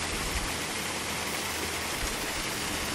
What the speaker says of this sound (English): Small section here where I could quite happily, it's like 7 foot waterfall.